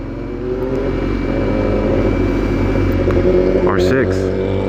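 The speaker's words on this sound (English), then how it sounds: "R6 with a shorty exhaust." A Yamaha R6 sport motorcycle with a short exhaust revs up sharply near the end, rising in pitch above a steady rumble of road and wind noise.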